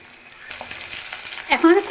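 Spice-marinated fish pieces hit hot oil in a small pan, turning a quiet background into a loud, crackling sizzle that swells and stays strong to the end.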